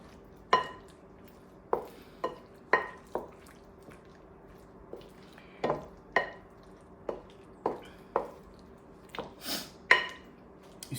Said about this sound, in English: All right, so I'm gonna stir all this together.